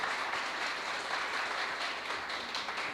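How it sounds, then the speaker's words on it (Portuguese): A church congregation gives a round of applause for two couples asked to stand, a continuous, even wash of many hands clapping, soft and distant-sounding with no clear voices. "Dá uma salva de palmas para eles"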